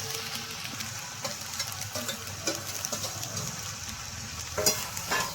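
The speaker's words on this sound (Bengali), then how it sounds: "এবার আমি সব ভেজে রাখা সব সবজিগুলো দিয়ে দেবো।" Fried vegetables tipped into a hot pan for a Bengali dudh shukto, sizzling steadily with scattered crackles and stirring scrapes, close and moderately loud throughout.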